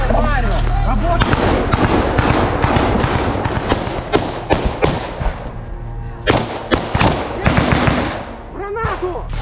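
Repeated gunshots and heavy thuds crack out during a combat assault, loud, irregular bursts with occasional distant booms, while people shout in between.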